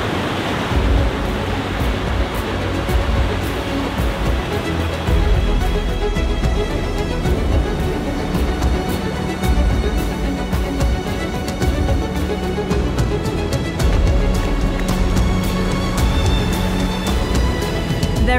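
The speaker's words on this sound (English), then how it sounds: "Hearing the sound and power of these waves crashing around the cave entrance made it feel and sound really eerie." Powerful ocean waves crashing around a sea cave entrance on Fuerteventura, a loud, continuous roaring wash of surf with repeated surges and no talking.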